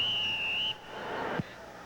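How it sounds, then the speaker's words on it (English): At a 1988 arena football game between the New York Knights and the Los Angeles Cobras, a referee's whistle gives one loud, sustained shrill blast in the indoor arena. Crowd murmur stays low underneath. "Boy, that whistle's loud, Verl."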